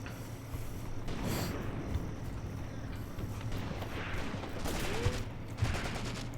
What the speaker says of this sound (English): Shoot, Klimenko. Good shooting